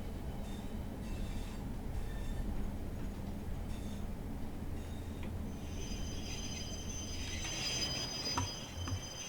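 A train rolling past in the Train Sim World game on a Cardiff route, a steady low rumble of wheels and carriages with a faint high squeal building toward the end, continuous and fairly close, with no talking.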